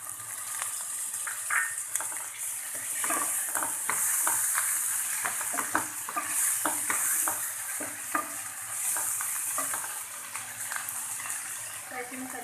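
Tomatoes fry in a ginger, garlic and green chili paste while being stirred, a steady loud sizzle broken by repeated scraping and clattering strokes of the spoon throughout.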